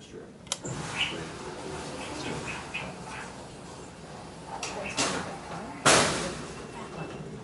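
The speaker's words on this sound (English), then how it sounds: "Now we're going to close the doors." Automatic doors of a 1966 Otis hydraulic freight elevator slide shut, with scattered mechanical clicks and a sharp thud near the end, fairly faint against a quiet room hum.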